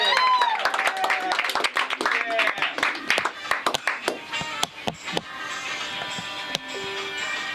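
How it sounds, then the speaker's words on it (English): Audience at a comedy panel show applauds the panel, scattered claps and cheers under loud talk at first, thinning into sparse individual claps before a sustained tone near the end. "Big applause!"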